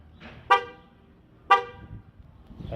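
Two short, loud honks from the horn of a 2016 GMC Terrain SLE, triggered by the key fob panic button and spaced about a second apart.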